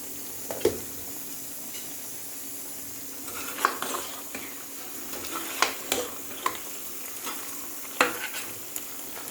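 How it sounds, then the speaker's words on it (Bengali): Mutton being fried and stirred in a pot over medium heat for a Bengali-style mutton curry with potatoes: a steady soft sizzle with scattered scrapes and clinks of the spoon against the pan, close and fairly quiet. "মিডিয়ামে আছে আমি মাংসটা কষছি।"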